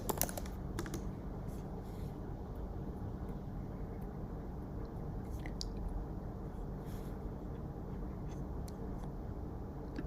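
Steady computer keyboard typing, a continuous stream of close, light key clicks with a few sharper taps, with no talking.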